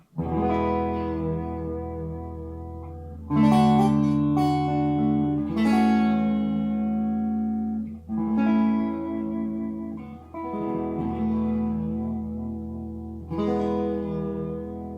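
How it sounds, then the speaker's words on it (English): Distorted electric guitar chords from a Squier Bullet Stratocaster ring out with a wavering, shimmering pitch wobble from the whammy bar, several strums sustained and drifting in pitch. "this is the kind of sound you can get using the whammy bar"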